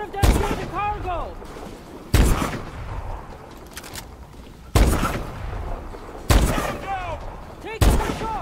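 Loud close gunshots from the video game Call of Duty: Advanced Warfare, five sharp heavy blasts spaced a couple of seconds apart, each with a ringing tail, over a background of game sounds.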